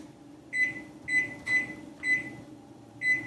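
A microwave oven hums steadily, with five evenly spaced short beeps ringing out about half a second apart.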